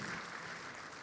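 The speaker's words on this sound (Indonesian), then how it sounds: "Kasih tepuk tangan luar biasa." Church congregation applauding during a sermon, a steady wash of clapping hands filling the room for about a second.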